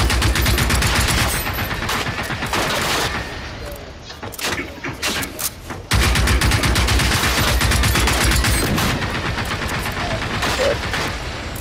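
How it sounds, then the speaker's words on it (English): Gunfire in Generation Zero, loud dense automatic bursts and heavy rapid shots that continue almost without a break, with a short choppier stretch midway, close and dominant with no talking. "There's somebody shooting us from behind."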